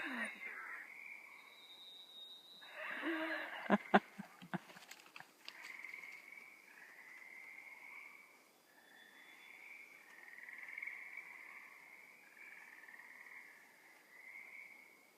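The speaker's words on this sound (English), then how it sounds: "That is a weird frog." A strange frog gives a piercing, whistle-like call, repeated as a run of high warbling notes, with a brief cluster of knocks and clicks near the start.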